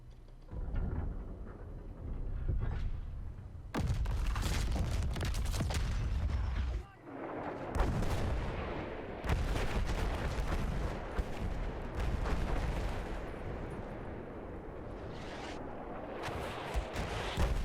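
Battleship dreadnought guns fire in Battlefield 1 on a beach assault: heavy booming blasts and rumbling explosions repeat over about eighteen seconds amid dense battle noise.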